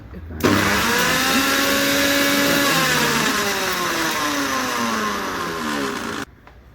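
A kitchen mixer grinder whirs at high speed as it grinds spice paste for a Konkan prawn curry, one loud steady motor drone whose pitch drifts as the load shifts, then it cuts off abruptly.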